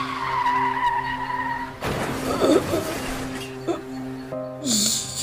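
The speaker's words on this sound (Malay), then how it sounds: "kedengaran bunyi hentaman yang kuat di antara mereka. Kereta Dahlan berpusing beberapa kali sebelum terbalik" A car in a crash sound effect skids with squealing tires, then tumbles and overturns, with scraping bursts and further squeals over a steady engine hum.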